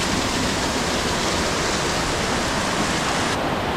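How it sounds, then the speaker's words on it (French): A mountain river rushes steadily through the Swiss mountains, a dense, continuous roar of water heard close and loud throughout, with no voices. "c'est nouveau ça comme rivière"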